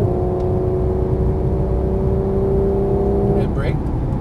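A Porsche 991 GT3 engine drones loudly and steadily from inside the car on a race track, its tone rising slightly before a brief shift near the end, with a voice talking over it.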